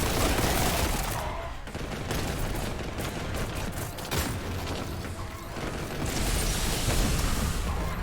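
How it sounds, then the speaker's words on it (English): Heavy bolt gun blasting in the retro shooter Boltgun, a loud, continuous barrage of rapid booming shots and explosions that barely lets up, with no talk over it. "Even got a nice counter for the Terminators now with the heavy bolt gun."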